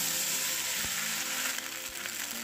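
Indian jujubes (kul) fry in oil with whole mustard seeds and dried red chillies, giving a continuous soft crackling sizzle at moderate distance, with a couple of faint stirring knocks.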